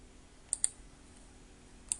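A computer mouse clicking in design software, two quick sharp clicks followed by two more after a short pause, close and crisp against a quiet background.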